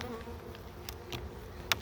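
Honeybees buzz at an opened hive during a late-winter inspection in a steady, fairly faint drone, with a few brief sharper rises as individual bees pass close.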